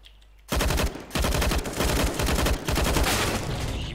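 Rapid bursts of automatic gunfire in a video game rattle in several close, loud volleys separated by brief pauses, with a quiet start before the shooting begins.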